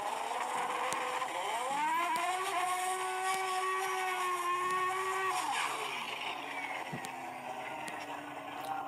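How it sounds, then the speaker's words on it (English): High-powered 3000 horsepower car engine revs up and holds a loud rising whine, then drops away into a steady roar, heard from close by with no talk. "this is what the sound of 3000 horsepower car"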